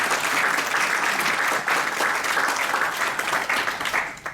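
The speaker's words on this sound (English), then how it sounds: "All of them deserve a quick round of applause." Audience applause fills a technology forum hall, steady dense clapping from a sizable crowd sustained and loud throughout without speech.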